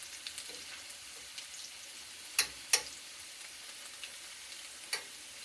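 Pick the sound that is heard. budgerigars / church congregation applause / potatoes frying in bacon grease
potatoes frying in bacon grease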